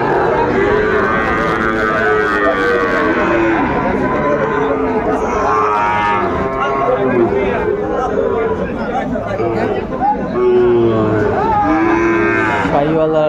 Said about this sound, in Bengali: শাহিওয়ালা জাতের ষাঁড় আমরা দেখছিলাম